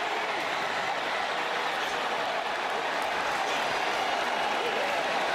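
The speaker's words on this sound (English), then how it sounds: "That Rocket crowd in the end zone is loving it." A college football crowd of Toledo Rockets fans in the end zone roars after a touchdown against Ohio State, a steady, dense wall of cheering and applause heard from a distance.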